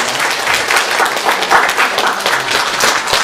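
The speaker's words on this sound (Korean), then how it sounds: "서로 격려의 박수를 좀 해주시면" A church congregation at a Sunday worship service claps together in steady, broad applause that fills the room for the whole stretch, loud and continuous with no voices over it.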